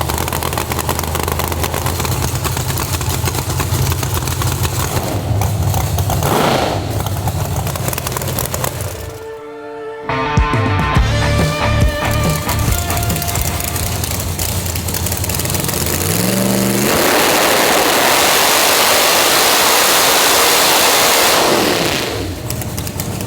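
A Nitrous Outlaw Cavalier race engine roars continuously on a dyno during a motor pass, loud and close, briefly dropping near ten seconds, then rising with sweeping revs and holding a heavy sustained drone before easing off near the end.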